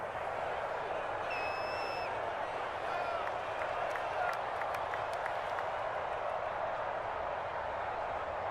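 Stadium crowd noise from Madden NFL 22 at a Kansas City home game, a steady broad roar of cheering and applause holding at an even level throughout, with faint whistles rising over it.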